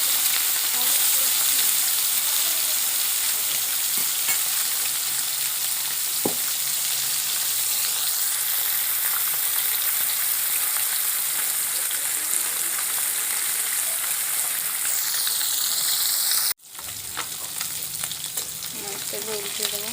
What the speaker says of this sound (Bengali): ভালোভাবে মাছগুলো ভেজে নেব।